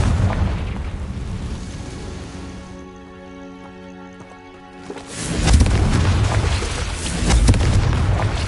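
A Confringo explosive spell from Hogwarts Legacy bursts with a loud, rumbling blast. A ringing, tonal shimmer follows, and then another heavy, roaring boom breaks in.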